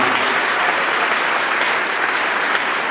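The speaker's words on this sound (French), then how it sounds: "acclamons pour le roi des rois" A church congregation at Pentecost Mass breaks into sustained, dense applause that holds evenly at full volume for a few seconds, filling the hall with close, many-handed clapping.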